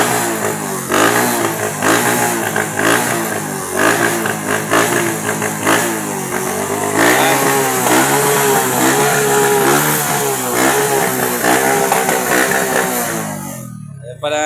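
Motorcycle engines, including a Suzuki and a Yamaha YTX, being tuned for an upcoming street race, revving loudly and continuously up close with repeated throttle blips and rising and falling pitch.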